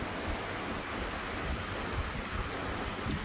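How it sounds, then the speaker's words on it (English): Heavy rain pours steadily outdoors as a dense, continuous wash, with low rumbling that may be thunder or wind blended in, close and fairly loud throughout with no talking. "Can you hear the sound of rain?"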